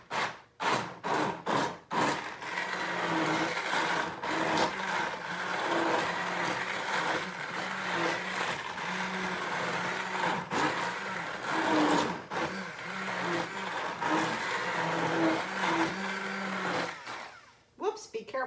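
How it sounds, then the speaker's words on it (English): An immersion blender whirs continuously through food in a home kitchen, a loud steady grinding drone with a few stops and restarts near the start and a brief pause near the end. "be careful with your immersion blender"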